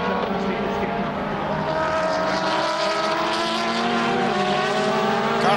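DTM touring race cars roar around the Valencia circuit in 2010, engines droning steadily at high revs with shifting pitch as the pack weaves along, under a commentator's voice.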